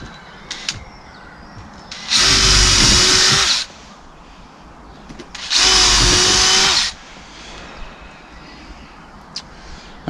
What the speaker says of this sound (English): I'm going to drill a few more of those the same, and then we'll get it screwed to the shed.